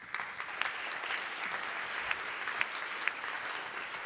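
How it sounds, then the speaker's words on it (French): Assembled attendees at an anniversary convention staging a mock tribunal give sustained applause, an even wash of many hands with a few sharper individual claps standing out. "Je vous prie de bien vouloir les applaudir"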